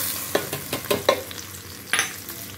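Hot tempering is poured over chutney, giving a few quick close sizzling bursts and spatters, then a final louder hiss before settling, with no talking.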